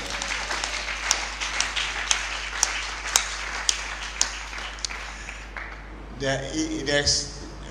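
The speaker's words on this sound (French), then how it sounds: "Let's clap for the Lord." Congregation applause in a church service after dedicating two new branches, a steady wash of clapping for several seconds that tapers off before other sounds take over near the end.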